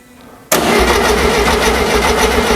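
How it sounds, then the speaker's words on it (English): After a brief quiet moment, a VW Beetle engine suddenly cranks and catches, settling into a steady, loud mechanical rumble with a rapid pulsing beat. "So we're just going to swing it to hear what it sounds like"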